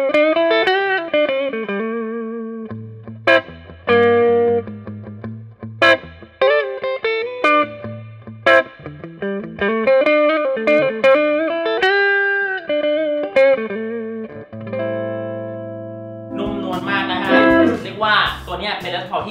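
Epiphone AFD Les Paul Special-II electric guitar on its rear pickup, played clean and bright with single notes, runs and strummed chords ringing out close and loud, ending in a denser strummed passage.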